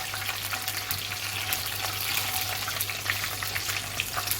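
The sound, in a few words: chicken frying in a pan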